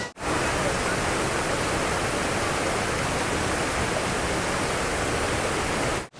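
Usri Falls waterfall roars with rushing water pouring from several directions over rocky ground, a dense, loud, unbroken wash of noise close by that holds steady throughout.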